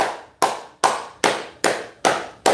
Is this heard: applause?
yes